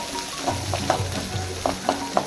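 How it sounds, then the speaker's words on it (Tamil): Onions sizzle steadily in a hot pan while being fried for a vetrilaivalli (air potato) stir-fry, with a few soft scraping stirs of a spatula breaking through the frying hiss. "இப்போ வந்து வெந் வெங்காயம் நல்லா வதங்கிட்டு"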